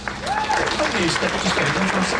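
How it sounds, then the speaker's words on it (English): An audience breaks into a big round of applause for on-stage volunteers, a dense steady clapping that fills the room while voices call out and talk over it. "let's give my volunteers a big round of applause"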